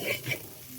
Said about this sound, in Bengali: এটিকে আরও একটু ভালোভাবে কষিয়ে নেব।